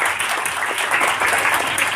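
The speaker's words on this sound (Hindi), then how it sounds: "तालियां बजती रहनी चाहिए।" Audience applause at an inter-school Hindi debate competition, dense steady clapping from a crowd filling the whole moment without a break.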